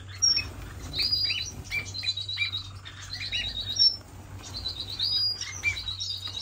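Finches in a home aviary give a run of bright, repeated chirps and short twittering phrases close by, with occasional soft wing flutters over a low steady hum and no talking.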